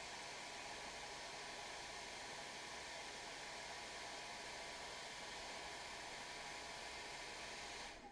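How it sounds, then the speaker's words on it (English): A hair dryer blows steadily to dry a freshly painted Star Wars Legion miniature, giving an even, loud, close whoosh that holds for the whole stretch and cuts off at the end. "we're going to use the hairdryer to dry this"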